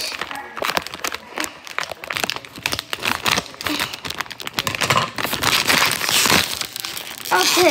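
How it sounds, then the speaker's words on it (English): Crinkly plastic Pocky packaging rustles and crackles up close as it is handled and pulled open, with dense crackling bursts growing louder toward the end. "I'm gonna open this Pocky package"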